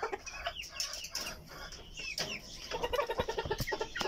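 Fancy backyard chickens, including Silkies, cluck and chatter after feeding, a busy layering of close and nearby bird calls and soft rustling that grows livelier toward the end, with no speech.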